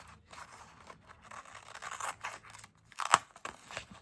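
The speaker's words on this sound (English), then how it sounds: "when I go to cut it out, I'm going to use these scissors" Scissors snip through a flimsy paper bag in a few short, crisp cuts, with one louder sharp snip near the end, close up in a quiet room.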